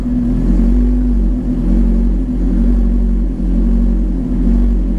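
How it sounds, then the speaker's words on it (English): A Suzuki GSX-R1000 sport bike fitted with a Healtech iQSE-1 quickshifter, its engine droning loud and steady with brief dips where the ignition cuts for a moment, heard close with no voices. "See, it will cut your engine for a second."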